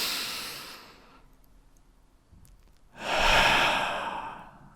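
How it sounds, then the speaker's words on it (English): A slow, deep breath drawn in and then let out, the breathing soft and close with a quiet pause between the inhale and a fuller, louder exhale. "maybe you can try to relax during this podcast and take a deep breath"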